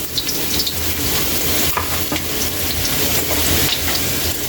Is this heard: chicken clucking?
no